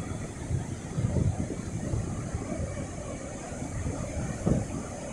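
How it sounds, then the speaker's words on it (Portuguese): Wind and water noise at a beach at night, a steady rushing wind buffeting the microphone over soft lapping surf, with no talking. "O vento tá zoando um pouco, né? Mas é assim mesmo. A zoadinha da água, né?"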